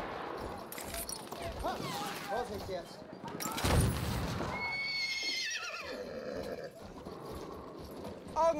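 An enemy cavalry horse in a war video game gives loud whinnies and neighs over clip-clopping hooves, with distant gunfire and soldiers' voices calling out over it.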